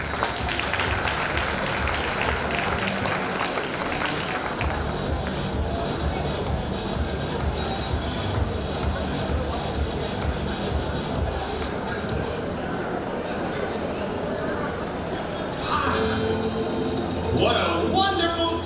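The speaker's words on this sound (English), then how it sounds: "Give them a round of applause, guys." Audience applause fills a school stage celebration, a steady broad wash of clapping and crowd shuffle lasting throughout, with background chatter and voices mixed in toward the end.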